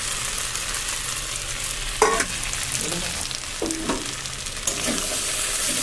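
Small mourala fish frying in a pan, a continuous sizzle broken by a few louder spatters and scraping stirs, close and without talk.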